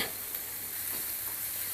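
Onion sautéing in a pan for eggplant bharit, a soft continuous sizzle with faint stirring scrapes, quiet and close with no voices.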